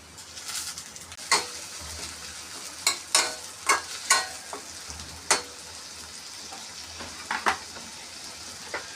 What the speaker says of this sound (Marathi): कांद्याने आपला छानपैकी गुलाबी रंग आलेला आहे आता मी टाकणार आहे टोमॅटो